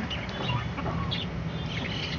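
A rooster clucks on a rooftop where free-range country chickens are kept, giving short, scattered calls over steady outdoor background noise, with no talking.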